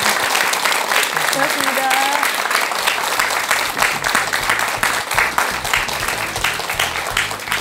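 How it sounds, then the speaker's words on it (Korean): Audience applause for a monk after his lecture on a Korean talk program: dense, steady clapping from a crowd filling the whole stretch, with a brief spoken thanks over it. "귀한 말씀 들려주신 스님께 큰 박수 부탁드리겠습니다"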